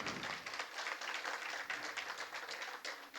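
An audience at a seminar marking a foundation anniversary applauds with steady, moderately distant clapping that continues evenly throughout, with no talk over it.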